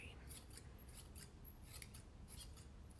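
Scissors snip repeatedly at a yarn pom-pom made of color-changing yarn, trimming it into shape with a steady run of quick, close crisp cuts and no talking.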